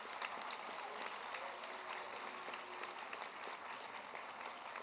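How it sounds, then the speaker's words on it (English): An awards-ceremony audience gives teachers of the year another round of applause, a continuous, evenly sustained roar of many hands clapping with no voices breaking through. "Can you give them another round of applause, please?"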